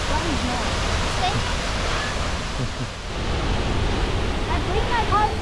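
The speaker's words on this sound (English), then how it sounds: "Is this Kimsa? Kimsa waterfall?" Kimsa waterfall at Molinuco, Ecuador, roars as a steady, loud broadband rush of falling water with spray-driven wind, continuous throughout with a brief dip near the middle, and faint voices mixed into the din.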